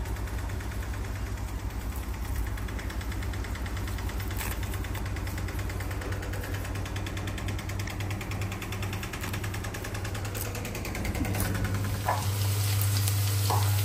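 Dal cooks in oil in a pan on the stove beside eggs being readied for frying, giving a steady low sizzle and bubbling hiss under a constant low hum, with no talk.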